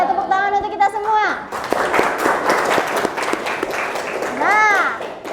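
A classroom of students bursts into clapping for several seconds, a dense patter of hands mixed with excited children's voices that rise at the start and again near the end.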